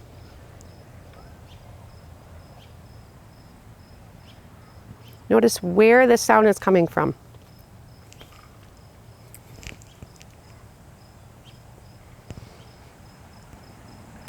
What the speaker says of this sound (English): And then I hear some crickets,